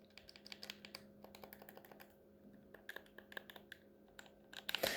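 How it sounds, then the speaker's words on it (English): Sony PlayStation DualShock 4 controller action buttons pressed repeatedly, producing a rapid series of quiet, crisp plastic clicks at close range with no talking. "The action buttons have the same clicky sound from the DualShock 3 controller"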